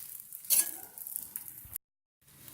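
A radish (mooli) paratha is laid on a hot pan, giving a soft, faint sizzle with light scraping. A short moment of silence comes before the sizzling resumes.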